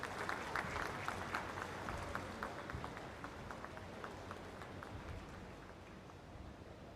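A crowd at an airport inauguration ceremony claps in sustained applause, fairly faint and distant, gradually thinning out.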